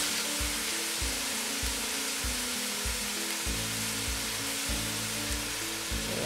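Taro leaf ingredients sauteing in a pan give off a steady, even sizzle that runs unbroken throughout, with a low rhythmic hum underneath.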